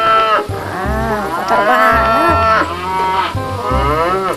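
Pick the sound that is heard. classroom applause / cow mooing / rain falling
cow mooing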